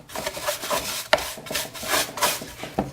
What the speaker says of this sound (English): Give them a quick brush out.